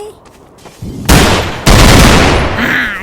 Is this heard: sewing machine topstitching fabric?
no